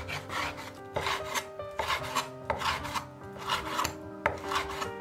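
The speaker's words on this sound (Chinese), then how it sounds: "然后把肉全部切成块。" A knife saws through skinless pork belly, cutting it into chunks, in a run of close, rasping strokes roughly once a second, each a gritty drawn scrape with faint knocks, quiet and without voices.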